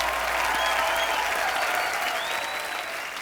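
Loud, dense studio audience applause on a comedy talk show, welcoming a singer; a continuous sustained clapping that fades slightly toward the end.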